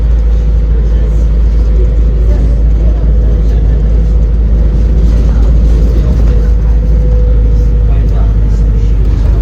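Ride aboard a bus heading toward Swanage and the Studland Bay campsite in Dorset, with a steady loud engine rumble and road noise throughout while people talk over it.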